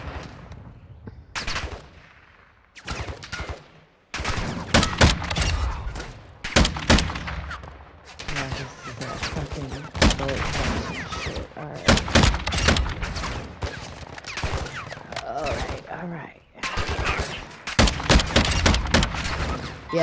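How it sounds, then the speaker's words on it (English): Repeated sharp sniper and automatic gunfire cracks ring out in a video game firefight, with dense volleys and short pauses across the stretch, loud and close, with no voices over it. "getting sniped, getting sniped"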